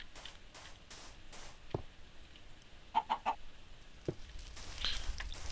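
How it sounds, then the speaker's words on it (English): Minecraft chicken clucks come as a few isolated soft pops and a quick triple burst in the middle, faint and unaccompanied against low background noise. "Did it just cluck?"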